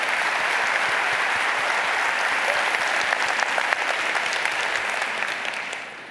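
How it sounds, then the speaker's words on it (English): A conference audience gives sustained, loud applause, a dense, even roar of many hands that holds for several seconds before tapering off at the end. "So big round of applause to AZA."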